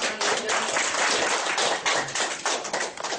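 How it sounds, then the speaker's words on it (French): An audience at a school theatre festival bursts into dense, continuous applause, loud and close, with sharp overlapping hand claps that hold steady for a few seconds before thinning slightly at the end. "On applaudit les Yolande"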